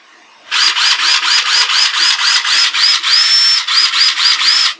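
A Black & Decker 14.4V cordless screwdriver fitted with a Lishen 4S3P battery pack runs in short, rapid pulses, a loud, close high-pitched whine with a rhythmic ratcheting pattern, then one longer steady burst before the pulsing resumes.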